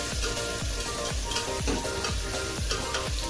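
Onion sautés in a pan for veg soybean biryani, a steady close sizzle with regular stirring scrapes roughly every half second and no talk.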